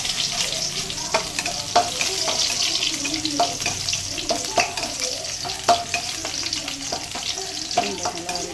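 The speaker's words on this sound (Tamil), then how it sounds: "பூண்டை நல்லா வதக்கிக்கலாம்" Garlic sautés in a pan with a steady bright sizzle, punctuated by repeated sharp scrapes and taps of a spatula against the pan in an irregular rhythm, close and clear.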